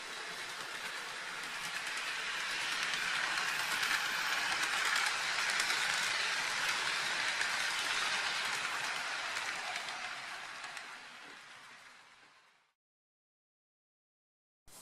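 An IHC EMD E8 model locomotive runs by with a steady, loud rolling roar that swells and holds for about twelve seconds, then cuts off abruptly into silence.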